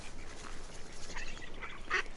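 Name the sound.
ducks quacking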